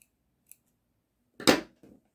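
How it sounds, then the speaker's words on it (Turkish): Scissors snip off leftover crochet yarn. There is one faint tick, then a single crisp close cut and a softer follow-up snip, with no talking around it. "Buradaki fazla ipi kesiyorum hemen."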